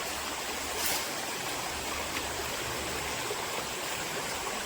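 A stream flowing in the Konkan countryside, a steady, dense rush of water that stays even and close throughout, with no voices.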